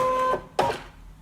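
A Brother ScanNCut cutting machine loads its cutting mat with a whirring mechanical feed, two short motor bursts about a quarter second apart, close and fairly loud with a steady tonal hum underneath.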